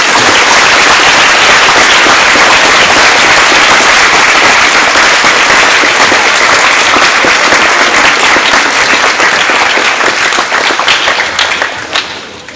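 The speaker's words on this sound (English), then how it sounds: "Let's give them a round of applause." A crowd at a high school Veterans Day ceremony applauds veterans: a loud, dense, sustained roar of clapping that stays steady for around twelve seconds before it begins to thin at the end.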